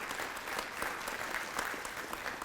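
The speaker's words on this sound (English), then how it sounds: "So let's give them a round of applause." Audience at a Hilton hall of fame ceremony claps steadily in a brief, fairly quiet burst of applause without speech.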